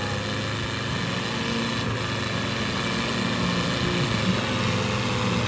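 Fiat and New Holland 640 tractors, one old model and one new, run their engines at a tochan pulling contest semi-final, making a steady, continuous engine drone at moderate distance with no clear voices.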